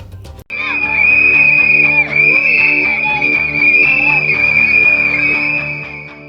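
Schoolchildren at a school in Simdega, Jharkhand blow whistles together in a loud, sustained shrill chorus lasting several seconds after a brief pause at the start, with faint crowd noise underneath.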